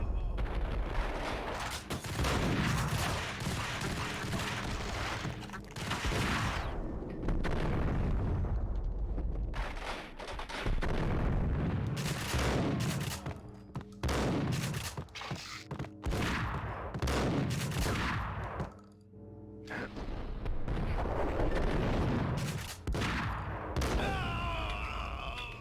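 Grenade explosions and heavy gunfire in the shooter game Max Payne, with dense bursts of shots and booming blasts going off repeatedly and loudly throughout, a short lull near the end before more firing.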